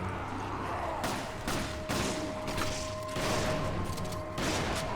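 Gunfire in the video game Resident Evil 5, a dense rattle of repeated shots in uneven bursts, moderately loud, running steadily over a continuous background.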